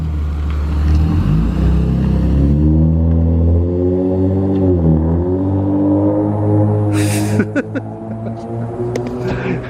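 A car revving hard as it pulls away aggressively, a loud, close engine roar whose pitch rises, dips and climbs again through the gears, with a brief clatter partway through.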